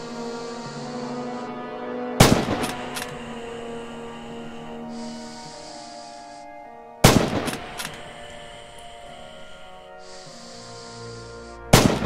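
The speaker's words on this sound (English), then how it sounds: "This is the standard Kar 98 with a sniper scope fitted. You can fire from a standing, crouched, or prone posture." A scoped Kar 98 bolt-action sniper rifle in the World War II shooter Rising Storm fires two loud, sharp single shots a few seconds apart. Each crack is followed by quick metallic bolt clicks over a steady ambient hum, with a third shot starting at the end.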